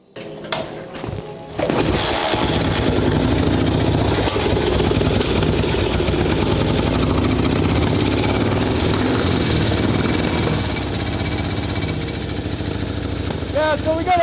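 Motorcycle engine with a bad lifter starts up after a brief mechanical clatter and settles into a steady, loud, close idle that holds for the rest of the clip.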